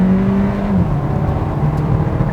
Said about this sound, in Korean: 자, 가속력 테스트 해보겠습니다.